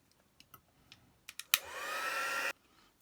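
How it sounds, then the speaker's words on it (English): A heat gun blows in a single loud, steady burst for about a second, melting embossing powder on folded paper, preceded by a few faint taps and handling noises. "now I just have to melt it with a heat gun"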